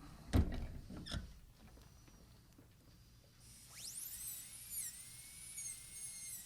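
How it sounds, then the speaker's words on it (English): A high-speed dental drill with a burr cuts a uniform chamfer around a full-crown tooth preparation. A few clicks come first, then a thin, steady, high-pitched whine rises near and fairly loud and runs to the end. "This is a good burr to use all the way around just to make a well-defined uniform chamfer"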